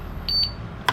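Short electronic beeps from an RV control panel button inside a 2022 Jayco Jay Flight 295BHS travel trailer, two quick tones followed by a brighter chirp near the end, close and fairly quiet, with no talking.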